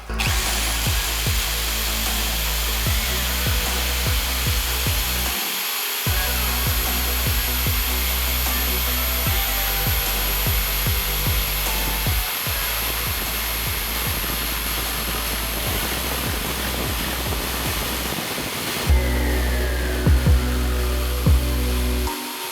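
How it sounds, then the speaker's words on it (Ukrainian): Power saw from APRO or DWT cutting straight through a 15 mm board, a loud continuous motor whine running over twenty seconds, labouring in jerky surges with a few brief dips and restarts. "дошку 15-ку йому важко різати, він прям такими ривками йде"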